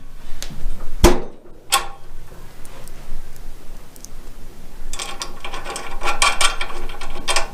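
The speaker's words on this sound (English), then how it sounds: "And then tighten them both up using 5mm Allen key and a 10mm spanner." M6 bolts on a side pod bar of a Tillotson T4 Mini are tightened with a 5mm Allen key and a 10mm spanner, giving a few sharp metallic clicks and then a burst of quick ratcheting ticks.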